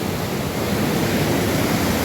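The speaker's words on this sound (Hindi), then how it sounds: "नीचे से नदी है, बीच में से पुल बना हुआ और ऊपर पत्थर से पानी छू रहा है" River water flows beneath a bridge inside a cave on a rugged mountain trail, giving a steady, close rushing wash that fills the whole clip with no voices.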